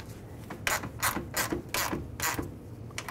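A ratchet wrench tightens an alternator mounting bolt on a 2008-2010 Ford F-250 with the 6.4L diesel, giving about five short, close bursts of rapid clicking separated by brief pauses.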